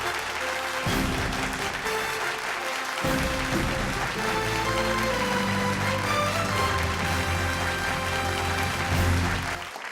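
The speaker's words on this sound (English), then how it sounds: "A round of applause for her." Applause from an awards ceremony audience in Bangalore, a steady wash of clapping beneath loud stage music with sustained tones, continuing evenly for the whole stretch.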